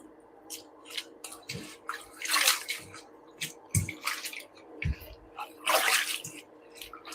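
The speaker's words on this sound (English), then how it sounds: "So we clean it here first in this water." Food being rinsed by hand in a bowl of water during restaurant kitchen prep: intermittent splashes and swishes in bursts, close and fairly quiet, with brief pauses between.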